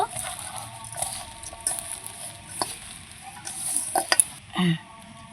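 Drumstick flower batter seasoned with salt, turmeric and black cumin gets kneaded by hand in a bowl, giving soft wet squelching and stirring sounds that run steadily, with a few louder squishes near the end.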